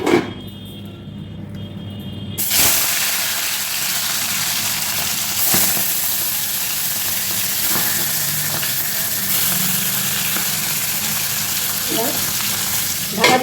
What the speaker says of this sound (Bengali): তেল গরম হয়ে গেছে এবার আঁচটা কমিয়ে মাছগুলো আমি ছেড়ে দিচ্ছি